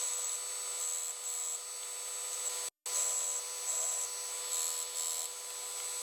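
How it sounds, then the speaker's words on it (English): A power sander flattening the sides of scrap wood gives a steady, faint whining hum with a brief cut-out partway through. "So I'm now using my sander just to sand sides flat."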